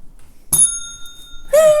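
A single bell from the Sushi Dice board game is struck once, ringing out loud and bright with a long, steady, sustained tone, followed by a short burst of voice.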